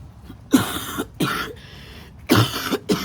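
Several harsh coughs in close succession, loud and near, with brief pauses between bursts.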